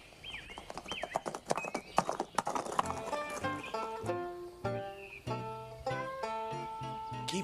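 Horse hooves clip-clop in a fast, uneven rhythm under a rider in a 1991 Lucky Luke cartoon, with a whinny near the start and musical tones rising as the galloping continues.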